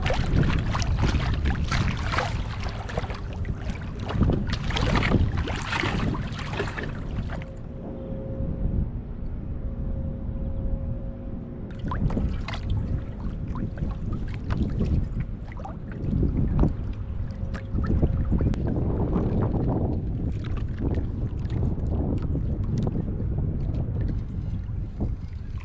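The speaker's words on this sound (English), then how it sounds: "Man, it's windy out here today." Strong wind buffets the microphone on a lake during trolling from a small fishing boat, a steady loud roar that rises and falls with gusts.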